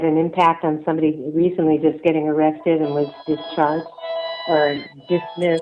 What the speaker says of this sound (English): sorry about the phone calls here